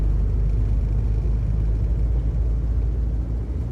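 A Morris Minor car accelerating in fourth gear, heard as a steady, heavy engine and road rumble from inside the car with a constant low drone and no talking.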